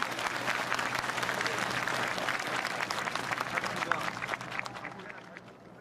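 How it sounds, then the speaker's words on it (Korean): A large crowd at a centenary ceremony gives sustained applause after a public reading of the Declaration of Independence, a broad, even roar of clapping that slowly fades toward the end. "여러분 큰 박수 보내주시기 바랍니다."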